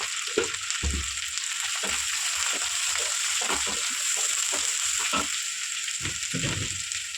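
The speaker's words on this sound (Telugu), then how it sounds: "అల్లం ఇక్కడ పేస్ట్ కదా ఇట్లా ఫ్రై చేస్తున్నాం బాగా" Ginger paste fries in a pan with a continuous crackling sizzle, broken by repeated scraping stirs at an uneven rhythm, close and fairly loud.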